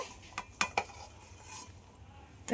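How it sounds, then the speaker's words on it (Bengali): Cabbage pieces dropped into a little water in a wok, a few close knocks and clatters of a utensil against the pan with a faint sizzle beneath, quiet and sparse, no talking. "এবার ওই জলের মধ্যে বাঁধাকপিগুলোকে দিয়ে দেব।"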